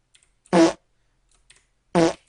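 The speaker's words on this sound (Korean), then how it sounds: "막대기에 튀길 때마다 색깔이 지금 바뀌면서 방귀 소리가 나고 있어요" Two short, buzzy fart sound effects play in an Entry ball-bouncing game each time the ball hits the paddle, spaced about a second and a half apart against silence.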